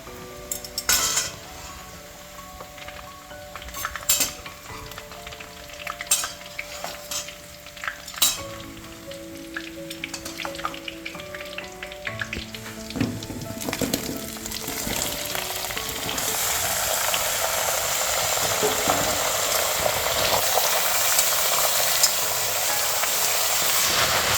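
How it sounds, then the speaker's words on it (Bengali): Onions fry until reddish brown for a goat mutton curry, with repeated spatula clinks and scrapes against the pan at first and then a louder, steady hiss of frying toward the end, with no talk. "পেঁয়াজগুলো লাল লাল হয়ে গেছে"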